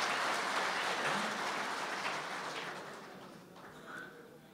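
Audience applause at a mushaira Urdu poetry gathering in Doha, Qatar: dense, sustained clapping from a crowd that gradually thins and fades over a few seconds.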